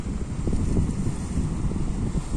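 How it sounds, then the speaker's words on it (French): Sea water washes against rocks in a continuous, low, rushing roar with wind-like rumble and no distinct breaks. "le bruit de l'eau qui tape sur les rochers"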